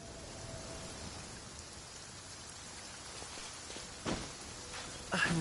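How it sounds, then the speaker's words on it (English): Rain falls in the Genshin Impact game world as a faint, steady hiss of drops, with a couple of louder splashing bursts toward the end. "Rain? Oh man, I hope I brought the laundry in."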